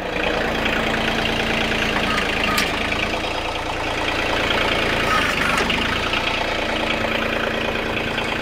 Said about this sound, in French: Le tracteur, il vire au ralenti, le plus ralenti possible.